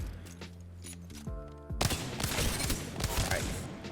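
Wingman pistol fired at practice dummies in Apex Legends, a rapid series of loud, sharp shots in the second half after a quieter opening with tonal game sounds.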